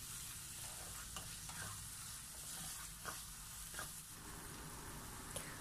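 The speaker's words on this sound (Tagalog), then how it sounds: "Saka po natin ito haluin para mag-combine po lahat ng ang ating ingredients." A bitter gourd (ampalaya) dish steadily sizzles and fries in a pan while a utensil stirs it, giving faint, periodic scraping clicks over the constant frying hiss.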